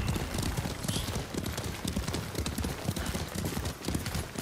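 A horse gallops in Ghost of Tsushima, its hooves pounding in a fast, steady rhythm under a rider. The hoofbeats are close and continuous and carry a faint background bustle, with no talking.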